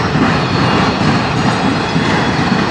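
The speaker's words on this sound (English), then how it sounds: "This speed, a whole train in Sarnia would be 10-minute train." A slow NS or CSX freight train grinds past at close range in Fostoria, Ohio, in a steady, loud roar of wagons with wheel clatter and a thin squeal, and no voices.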